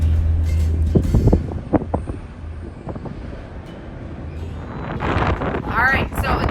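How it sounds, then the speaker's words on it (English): Wind rushing through an open window of a Disney Skyliner gondola approaching Hollywood Studios, a steady breezy roar with microphone buffeting that swells near the end, while a person talks over it. "I'm just trying to show you how breezy it is in here."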